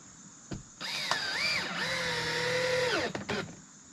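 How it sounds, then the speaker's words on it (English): A cordless power drill drives screws into a soffit board, its motor whirring up and bogging as the screw seats, then stopping with a few short bursts, close and loud with no speech. "I'm gonna put a couple screws in it."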